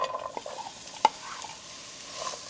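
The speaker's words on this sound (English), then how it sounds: "And we're gonna saute our veggies, okay?" Vegetables sautéing in oil in a pan, soft continuous sizzle with a few stirring scrapes and one sharp utensil clack, fairly quiet and close.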